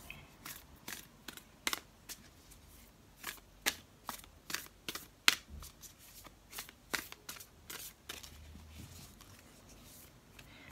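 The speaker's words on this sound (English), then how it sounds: "One last shuffle and then I'll pick a card for you." A deck of tarot cards being shuffled in soft, quiet bursts, a dozen or more brisk riffles and flicks spaced irregularly, close and intimate against near silence.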